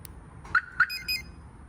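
Two quick, faint electronic chirps in succession followed by a brief higher beep from a Compustar remote start locking a 2007-2012 Nissan Altima, heard at a distance.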